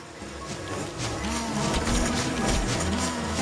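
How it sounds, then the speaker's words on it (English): Bees from the video game Don't Starve buzz steadily and loudly throughout, a continuous droning hum of several insects with a slight rise and fall in pitch. "Alright, so here come the bees."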